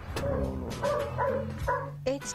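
A dog barks in a quick series of sharp, close barks and yips, with voices overlapping in a busy family home.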